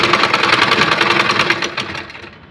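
A sewing machine stitches elastic onto a pair of boys' pants in a fast, even, close rattle of needle strokes that slows and trails off near the end.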